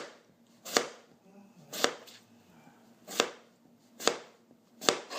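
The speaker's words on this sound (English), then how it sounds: "What I have here, it's an organic Fuji apple. So I'm going to slice it in." An organic Fuji apple is sliced with a knife on a board, five crisp separate cuts at uneven intervals, close and fairly quiet with faint background noise between strokes.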